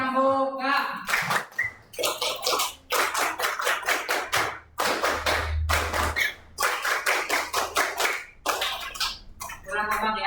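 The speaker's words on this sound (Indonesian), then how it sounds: "Tepuk pramuka." A primary school class performs the Indonesian scout clapping routine, tepuk pramuka, in sharp unison bursts of claps broken by short pauses, with voices calling out between the rhythmic groups.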